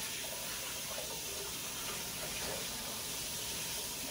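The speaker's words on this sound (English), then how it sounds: "My hands are gross. I have to wash them before I stop the camera." Tap water runs steadily into a kitchen sink as hands are washed after mixing meatloaf, a soft continuous splashing hiss heard alone at low level.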